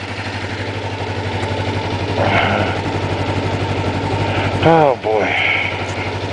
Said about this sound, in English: let's start the motorcycle